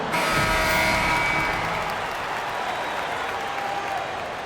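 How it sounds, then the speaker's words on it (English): Basketball video game crowd applause and cheering fill the space, loud at first and slowly fading, a broad wash of clapping from a large arena audience. "Let's give a round of applause for you."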